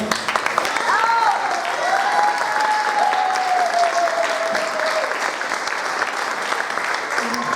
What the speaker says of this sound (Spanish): Vale, un aplauso.